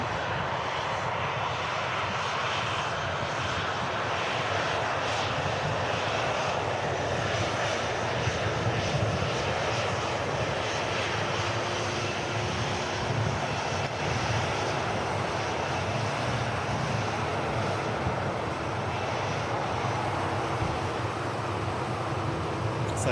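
Airbus A330-400 passenger jet engines at Manchester Airport, a steady broadband roar holding loud and constant throughout, with no talk over it.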